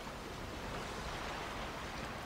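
Steady rushing water waves wash without pause in The Last of Us video game, a broad, even surf-like hiss with no talk.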